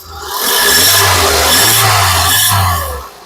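A 2011 Volkswagen Vento Highline engine revs up loudly and holds a high, strained roar for a few seconds before easing back down.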